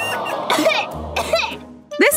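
A cartoon child coughs in short, loud bursts, three in quick succession with brief pauses between, close and clear.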